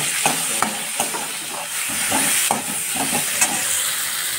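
Beans (shenga) fry with turmeric in a pan, giving a steady hiss and sizzle, with a spoon stirring and tapping at irregular intervals. The sound is close and continuous, with no voices.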